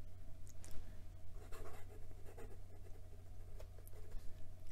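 Admok acrylic fountain pen with a Schmidt nib scratching across paper, a soft continuous close writing sound with faint strokes over a steady low hum.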